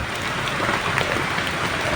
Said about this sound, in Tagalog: Ulan talaga mga tol.